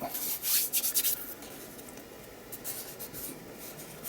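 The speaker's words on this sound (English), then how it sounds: "Just give it a gentle rub." Paper is rubbed gently down onto an art journal page: a few quick, soft scratchy strokes at first, then a faint, quieter rubbing close by.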